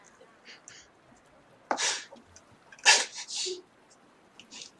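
A person sneezes close by, a sharp burst followed by a second explosive sneeze and a short trailing breath, heard over quiet room tone with faint background murmur.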